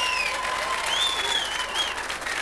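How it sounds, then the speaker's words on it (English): Dense, sustained applause from a large TV studio audience at a 1990 variety show, with a few whoops and whistles rising above the clapping. "I'm not stepping on your applause."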